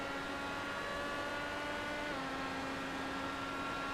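Race car engine at Road America in an AOWRS round, a steady loud high-pitched drone with a brief pitch drop mid-way as it shifts back up to third gear heading downhill, continuous and close.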